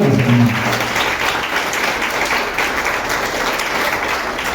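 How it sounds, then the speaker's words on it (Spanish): Church congregation clapping steadily together as an offering of applause, a dense sustained wash of many hands that carries on without a break. "Dale más fuerte esa ofrenda de palmas, Señor."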